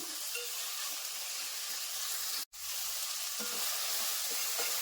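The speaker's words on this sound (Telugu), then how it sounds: "పుదీనా వేసుకుని కాసేపు వేగనిద్దాం" Mint leaves and tomato fry in a pan for cauliflower biryani, a steady close sizzle and hiss running throughout with one brief dropout midway.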